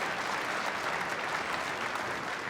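A wedding audience applauds the bride and groom, a steady wash of clapping from many hands sustained evenly throughout, fairly quiet and without talk.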